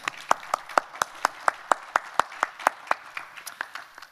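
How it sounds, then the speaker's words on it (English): A small audience at a border management event claps for a master's graduate, each sharp clap distinct, in a quick, fairly regular rhythm of about five per second, with a quiet room between the claps. "Yes, you can applaud."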